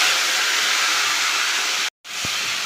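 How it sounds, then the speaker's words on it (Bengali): Shrimp fry in hot oil in a kadai wok with a steady, loud, broad sizzle. The sizzle drops out for a moment, then comes back just as strong. "তেলটা গরম হয়ে গেলে চিংড়ি মাছটা দিয়ে দেবো।"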